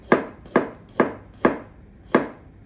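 A sharp knife slicing salad vegetables thinly on a board, five crisp cuts in an even rhythm with one slightly longer gap before the last, close and clear with no talk.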